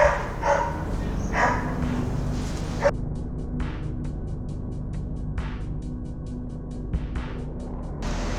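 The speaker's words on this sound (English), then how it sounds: "There's like 3 dogs over there." About three dogs bark outdoors in short, scattered bursts, some distance away, over a low hum of steady background noise.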